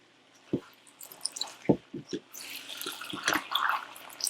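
Chicken stir fry in a hot pan being stirred with a poured soy sauce and cornstarch sauce, giving scattered wet squishes and drips, a few sharp clicks early, then denser sizzling, liquid mixing noise.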